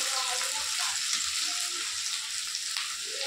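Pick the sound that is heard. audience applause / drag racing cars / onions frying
onions frying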